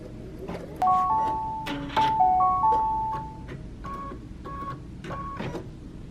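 An embroidery machine runs a placement stitch for batting on an in-the-hoop coaster, giving a series of electronic beeps and tonal chirps over a steady low mechanical hum, close by with no talk.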